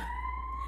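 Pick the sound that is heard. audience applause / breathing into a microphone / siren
siren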